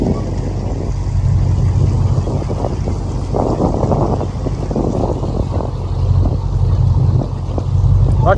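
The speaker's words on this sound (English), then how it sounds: "Drive across the lake." Pickup truck pushing across a lake through water, a continuous rumbling engine with rushing, splashing water and wind buffeting close to the microphone throughout.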